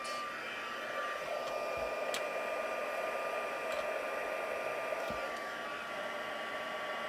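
A handheld heat tool blows hot air over a handmade card to heat set it, making a constant close rushing whoosh that fills the whole clip with no talk.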